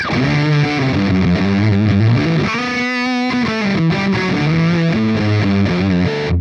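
Electric guitar run through a fuzz effect on a Line 6 POD Express into a PV5150 amp model, giving a thick, heavily saturated tone across a steady riff of chords and notes with a brief sputtering break midway.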